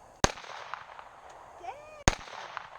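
Two sharp Glock pistol shots at an outdoor range, about two seconds apart, each a loud crack with a quick decay, with faint voices in the gap between them.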